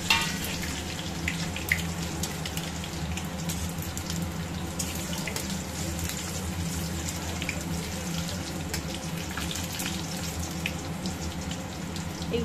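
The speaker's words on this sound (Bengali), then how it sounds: "দিয়ে দিচ্ছি সাদা জিরে, শুকনো লঙ্কা, এই যে যেটুকু আছে সবটা ফোড়ন দিয়ে দিলাম" Cumin seeds and dried red chillies tempering in hot oil, giving a continuous close crackling sizzle with scattered sharp pops throughout and no voices.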